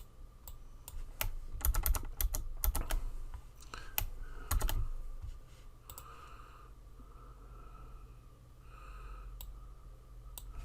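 Keyboard shortcuts are typed on a computer keyboard in quick clustered bursts of crisp key clicks, close and clear, separated by short pauses, with faint breathing in the quiet gaps.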